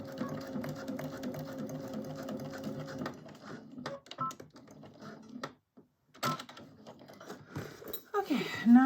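A sewing machine stitches a crossbody bag in a steady whirring run close by, then stops and starts in short bursts with clicks and handling noises. A voice speaks briefly near the end.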